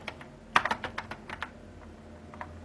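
Keys tapped on a computer keyboard in a short, quick burst of a dozen or so close clicks, then a couple of isolated taps before it goes quiet.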